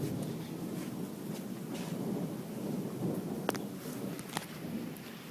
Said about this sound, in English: We're right now looking outside my house at the fucking thunderstorm we got going on.